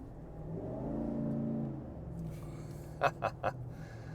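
A 2024 Chevrolet Silverado LTZ Z71 V8 in sport mode gives a rising exhaust rev that swells and fades, followed by three sharp quick blips of the throttle.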